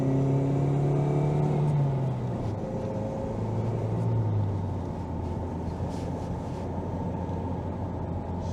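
Inside a Ford Mondeo MkIII 1.8 cruising at 90 to 100, the cabin holds a steady low road and engine rumble, and a smooth engine drone eases lower early on, all heard without anyone talking.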